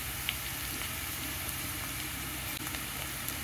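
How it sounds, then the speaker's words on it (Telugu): Cumin seeds fry with onion pieces in a pan for a bottle gourd curry, giving a steady, soft sizzle with faint crackles and no talking. "ఇప్పుడు ఇందులో జీలకర్ర ఫ్రై చేసుకున్నాం"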